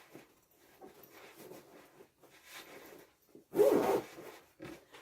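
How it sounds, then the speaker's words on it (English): A zipper is pulled closed along a fabric pillow cover, several soft ratcheting zips building to one loud close rasp near the end, quiet and near. "So I just go ahead and zip it up, zip it up, zip it up."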